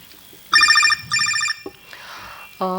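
A telephone rings in two electronic bursts, followed by a brief clatter and muffled noise, then another tone begins; close and fairly loud.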